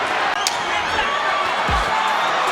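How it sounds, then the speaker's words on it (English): An arena crowd roars for Manny Pacquiao during his fight with Timothy Bradley, a constant wash of cheering with a dull thump, while a commentator talks over it. "The crowd going for Manny Pacquiao"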